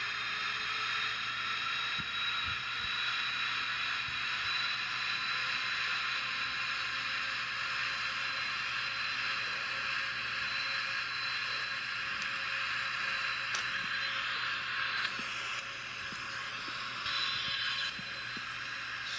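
Boeing 777 engines at takeoff thrust in a flight simulator make a steady, faint whining hum layered over a smooth hiss, continuing evenly without speech.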